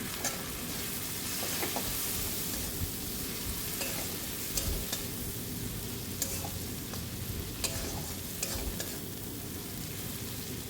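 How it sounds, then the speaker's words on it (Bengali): Boiled prawns sautéed with spices in a pan for an elephant foot yam and prawn dish, giving a steady, dense sizzle with frequent spatula scrapes and taps at an even rhythm, close and continuous throughout. "এই দেখো সিদ্ধ করা চিংড়ি মাছটা আমি দিয়ে দিলাম। এবার মশলার সাথে একটু কষিয়ে নিচ্ছি।"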